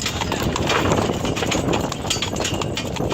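Mule hooves clip-clop in a quick, irregular rhythm over a broad rumbling noise, close and fairly loud, with no voices.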